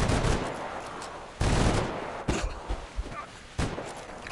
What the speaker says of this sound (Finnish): Mä painotan luodit loppuun ja se ei sano mitään